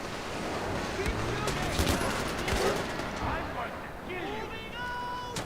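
Far Cry 4 combat brings dense bursts of gunfire and grenade blasts over a constant rumbling game soundscape, while a voice talks across the action.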